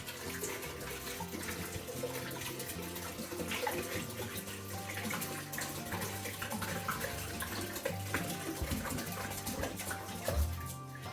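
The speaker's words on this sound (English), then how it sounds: "I'm just sanitizing the jug as well, because everything has to be sanitized." Water runs and splashes while a jug is rinsed with sanitizer before making hard cider. The rushing, gurgling flow is steady and close, with small clunks of the jug throughout.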